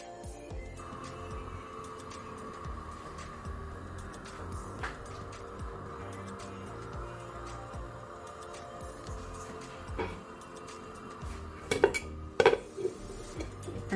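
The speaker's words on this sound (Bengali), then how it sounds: "তো এখন নাড়াচাড়া করে একদম ঢেকে দিয়ে দিব কিছুক্ষণের জন্য দমে রাখতে" White rice pulao stirred in a cooking pot, with soft scraping and a few sharp metal clinks near the end as the lid goes on, over a faint steady background hum.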